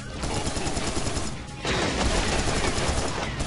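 Dense, continuous gunfire in the video game Serious Sam 3 BFE, a loud, crackling barrage of rapid shots with mechanical clatter that dips briefly midway and then resumes even heavier.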